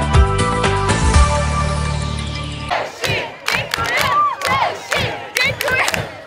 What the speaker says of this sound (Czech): Davové šílenství díky velkoplošné projekci ovládlo i jinak rokový Majáles v Pardubicích.